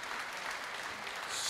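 Crowd applause breaks out after a shot in a European individual closed squash championship match, steady broadband clapping that swells slightly toward the end.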